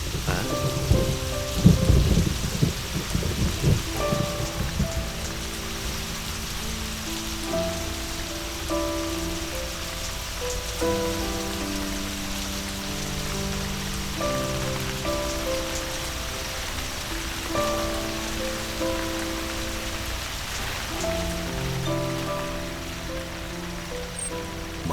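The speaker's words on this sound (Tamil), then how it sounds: "ஹாய் மழை." Steady rain pours down for the full stretch as a dense, hissing wash, with a heavier rumbling burst near the start and gentle melodic music playing over it throughout.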